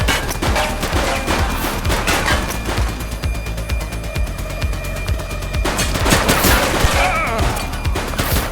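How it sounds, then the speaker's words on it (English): Dense gunfire from the police video game The Precinct, with rapid overlapping shots and bursts in close succession throughout, loud and continuous, with occasional heavier impacts mixed in. "He's shooting!"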